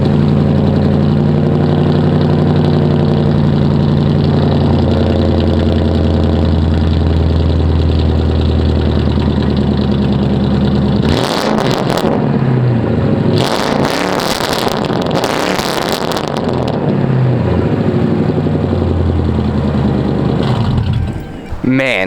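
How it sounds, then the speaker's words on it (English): A Ford Crown Victoria with an opened-up exhaust idles with a loud, steady low rumble, then revs in a few rowdy bursts before settling back. No one speaks over it. "the car is loud, but it's not super obnoxious"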